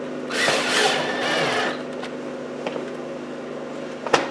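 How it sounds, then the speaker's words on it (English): Power drill driving a screw while installing a manual transfer switch for an off-grid solar inverter: a close, rising motor whine for about a second and a half, then stopping, followed by quiet ticks and a sharp clack. "I'm gonna pick the drill back up, put a screw right here."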